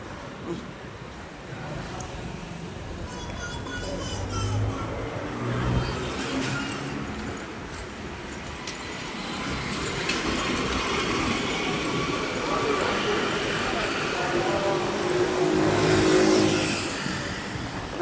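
Vehicles pass along a road in a continuous loud rolling rumble that swells and fades, with engines revving, while voices talk over the traffic.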